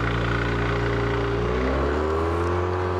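A Honda Silver Wing 600 scooter pulling away in a three-way drag race, a loud close engine drone with rising pitch as it accelerates, steady and without pause, no speech.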